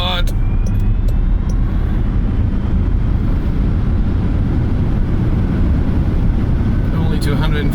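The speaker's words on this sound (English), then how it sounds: "Full stop and then full throttle." A Jaguar I-Pace electric car accelerates hard at full throttle from a standstill. Loud rushing road and wind roar fills the cabin, with a faint rising electric whine running under it.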